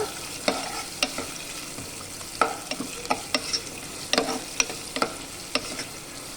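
Onions frying and being stirred in a pan for a broad bean curry, a steady close sizzle punctuated by a dozen sharp spoon scrapes and knocks at irregular intervals, no talk.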